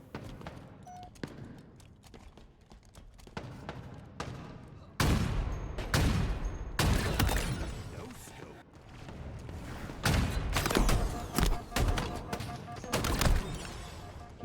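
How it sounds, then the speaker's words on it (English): Shotgun blasts and chaotic gunfire in a Halo Infinite match at a competitive esports event, loud bursts arriving in clusters over dense game noise, with voices talking throughout. "Oh my god, my shotgun worked."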